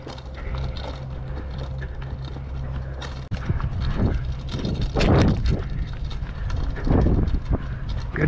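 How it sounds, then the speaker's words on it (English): Rhythmic hoofbeats of a trotting horse, steady and fairly close, with a brief jolt partway through and soft background noise. "Just trot, okay? Good horse."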